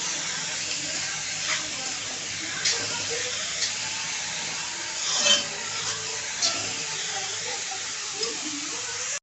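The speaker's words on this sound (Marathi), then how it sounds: "कांदे आपल्याला छान असे ब्राऊन करून घ्यायचे आहे।" Onions frying in a pan until golden brown, a continuous broad hiss of oil with occasional soft scrapes and stirring noises over it, steady and fairly close.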